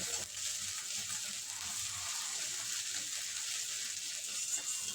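Ginger garlic paste and onions fry in a pan while being stirred, giving a steady bright sizzle and hiss throughout, moderately close, with no voices.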